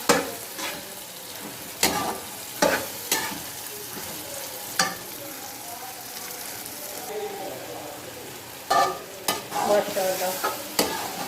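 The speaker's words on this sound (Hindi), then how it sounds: "अब मैं भिंडी डाल रही हूँ और अच्छी तरह मसाले में मिक्स करूँगी" Okra tossed into a spiced masala, frying with a steady sizzle while a spoon scrapes and stirs the pan in sharp, irregular strokes, close and fairly loud.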